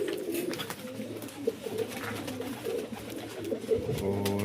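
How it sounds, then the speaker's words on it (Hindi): Feral pigeons coo softly and repeatedly nearby, low throaty calls rising and falling over faint background noise. "ये घर का जंगली कबूतर है।"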